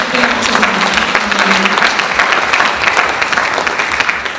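A church congregation claps and cheers in praise during a worship service, steady dense applause filling the room throughout, with a brief voice rising faintly beneath the clapping.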